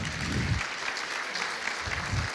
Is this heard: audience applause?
yes